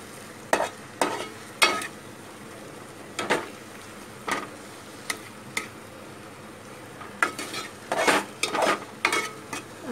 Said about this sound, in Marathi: टोमॅटो चांगला स्मॅश करून घ्यायचा।